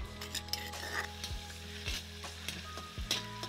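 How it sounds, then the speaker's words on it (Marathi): Crushed garlic and green chili paste frying in oil, a steady near sizzle broken by several sharp scrapes and clinks of a spoon stirring against the pan. "मिरचीचा ठेचा छान तेलामध्ये परतून घ्यायचा आहे"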